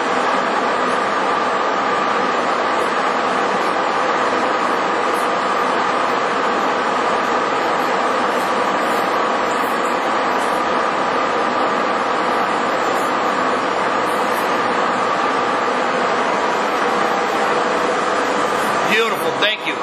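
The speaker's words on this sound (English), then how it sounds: "let's go ahead and run the spindle down just a little bit" An American Hole Wizard 4' x 15" radial arm drill lowers its spindle with a steady, loud mechanical whir and hum that runs unbroken throughout, and faint voices can be heard in the background.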